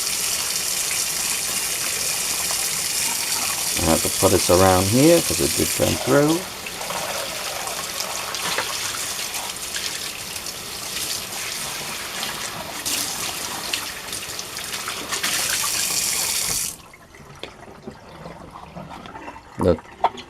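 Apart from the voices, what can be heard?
water running from tap into sink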